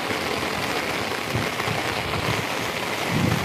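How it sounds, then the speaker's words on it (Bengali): Heavy rain falls on a flooded street in Chittagong as a steady, dense roar of drops splashing on water and hard surfaces, loud and continuous, with no voices. "বৃষ্টি সেই সকাল থেকে বৃষ্টি হচ্ছে, বৃষ্টি থামতেছে না।"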